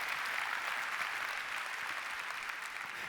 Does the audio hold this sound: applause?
yes